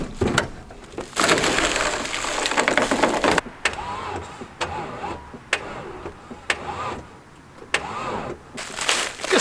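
A laid-up Land Rover engine cranks in repeated bursts as the starter churns without catching. Clicks and knocks fall between the attempts, which are close and moderately loud.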